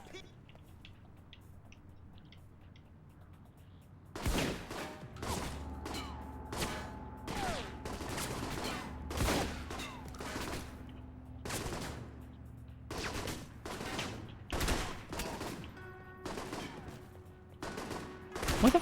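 Gunfire in the stealth action video game Alpha Protocol, a rapid run of loud, sharp shots starting a few seconds in and continuing in irregular bursts over game tones, with a voice talking at times.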